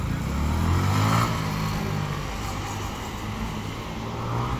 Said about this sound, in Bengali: বাইক একটা গেল আর একটা আসলো